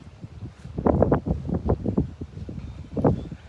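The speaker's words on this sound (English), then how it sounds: "Like this wind right here" Outdoor wind gusting hard against the microphone, coming in uneven rumbling buffets, with a strong surge in the middle and another near the end; no voices.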